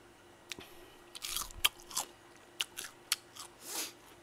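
Crispy fried chicken from a Korean chicken shop is bitten and chewed in a series of sharp, close crunches, about a dozen irregular snaps spread over a few seconds, with no talking.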